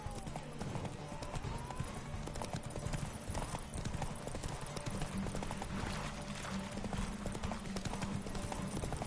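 Roach, Geralt's horse in the next-gen edition of The Witcher 3: Wild Hunt, gallops with a steady, rapid clip-clop of hooves that runs continuously and loudly over dense game ambience.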